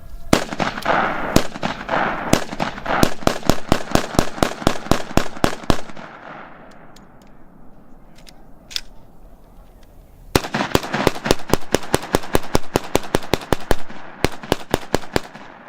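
Korean War-era weapons fire in a live demonstration on a range, rapid sharp shots in quick ragged bursts, then a short lull with scattered reports before another dense volley, loud and close.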